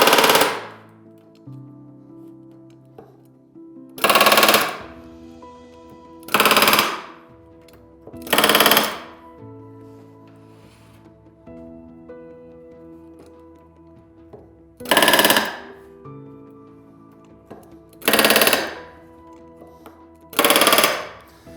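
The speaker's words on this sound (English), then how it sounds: "Now I'm basically gonna go through and hit every middle rivet." A pneumatic rivet gun sets rivets on an RV10 aileron in seven short, loud, rattling bursts spread unevenly over about twenty seconds, with quiet workshop pauses in between.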